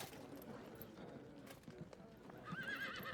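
Horses in the Field of Glory 2 video game clip-clop and whinny at a faint distance, with a whinny rising near the end and a low murmur of voices underneath.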